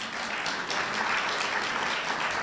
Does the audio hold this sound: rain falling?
no